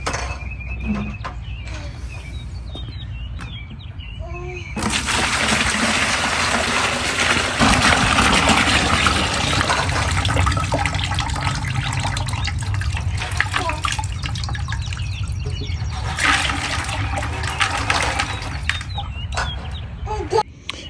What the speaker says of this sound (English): we're gonna dump it out and see what all's in there